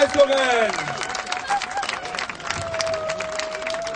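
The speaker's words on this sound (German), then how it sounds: "Applaus für alle, die hier reinkommen." Spectators at a sports event in Schwerin clap through a continuous patter of applause, with crowd murmur, a held whistle-like tone and a voice rising briefly over the start.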